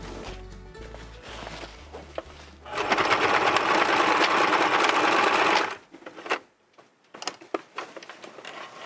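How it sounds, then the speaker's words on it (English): A sewing machine stitches the bottom edge of a fabric cover for an outboard gas tank, first slow uneven stitching, then a loud steady whirring run of about three seconds, followed by a few short bursts. "we're going to sew the bottom edge"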